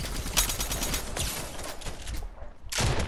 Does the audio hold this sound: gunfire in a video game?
yes